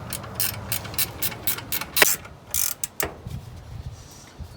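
Bolts on the power steering bracket of a 1971 Ford F100 tightened with a ratchet, bursts of rapid metallic clicking close up, separated by short pauses.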